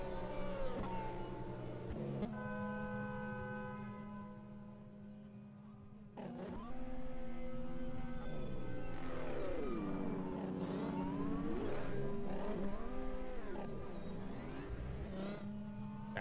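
Formula 1 race car in rFactor 2 pulling into the pits at the German GP, engine tone holding steady then dropping and rising in gear changes, a loud continuous drone throughout with no talk.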